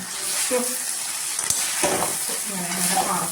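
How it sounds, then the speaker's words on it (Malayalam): Wilted spinach sizzles steadily in a hot pan at close range while a spoon stirs it, with soft scraping strokes and small clinks over the constant frying hiss. "ചീര ഒരുവിധമൊക്കെ വാടി വന്നിട്ടുണ്ട്. നമുക്ക് അതൊന്ന് ഇളക്കിയിട്ട് കൊടുക്കണം"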